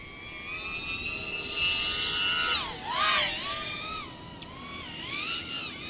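Close, high-pitched whine of an FPV quadcopter fitted with iFlight Tachyon 1408 4100kv motors and running on a 4S battery, its pitch sweeping up and down sharply as the throttle changes through the flight.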